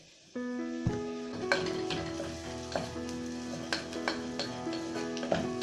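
Garlic, ginger and a tablespoon of curry powder frying in a pan for stuffed bell peppers, a steady sizzle punctuated by periodic spoon scrapes and taps, close and moderately loud, with no talking, and soft background music underneath.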